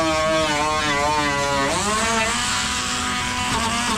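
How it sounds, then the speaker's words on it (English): Die grinder spinning a Scotch-Brite wheel pad over a rusty seam on a BMW E36 bootlid, a steady loud whine that dips in pitch partway through as the pad bites into the metal, running continuously with no talk. "I'm going to go at it with this Scotch wheel pad and the die grinder."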